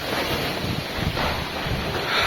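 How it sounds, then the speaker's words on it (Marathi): Strong, gusty wind before pre-monsoon rain in a village, roaring steadily throughout, with broadband rushing and buffeting against the microphone and no voices. "वारा पण जबरदस्त वादळी वारासारखा होतोय"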